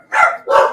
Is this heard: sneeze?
no